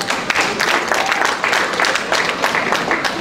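An audience at a community convention applauds, a dense steady wash of clapping from many hands that holds throughout at moderate loudness.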